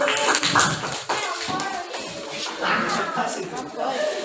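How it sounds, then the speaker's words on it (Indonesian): Classroom applause for a student group during a teaching practice session, a brief burst of clapping with talk and light laughter over it, fading into murmured voices. "tepuk tangan dulu untuk kelompok kedua"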